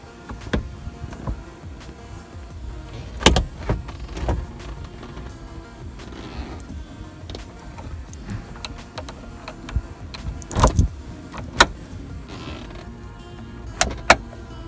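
Roof latches on a 1990 Eunos Roadster (Mazda Miata) are clicked into place. Several sharp, close clicks and knocks come at irregular intervals over faint handling rattles.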